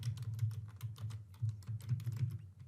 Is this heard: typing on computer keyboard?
yes